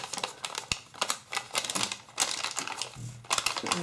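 Origami paper being creased and folded down, a quick series of close, crisp taps and paper rustles, short and irregular, with no voices.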